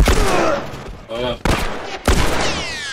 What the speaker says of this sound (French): il y en a un qui me tire dessus